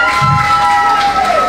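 Loud crowd cheering and shouting, children's voices among it, rising close by in a live audience, with a whistle-like tone running across the din.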